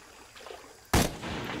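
A single loud shotgun blast in the video game Shadow of the Tomb Raider, a sharp broadband crack at close range followed by a brief ringing tail over quiet game ambience.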